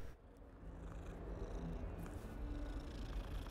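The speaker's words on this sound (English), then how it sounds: "Alright, enough petting the cat." A cat in the video game Hogwarts Legacy purrs steadily while being petted, a soft continuous low rumble held close and even throughout, with no talk over it.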